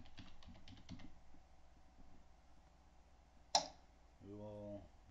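Keyboard typing in Photoshop: a short run of light clicks near the start, then a sharp isolated click and a brief buzzy tone at the end.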